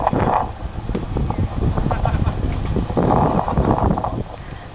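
Wind blowing across the deck of a cruise ship departing on an Alaska voyage, a loud rushing, buffeting roar that swells and fades, muffled and close to the microphone.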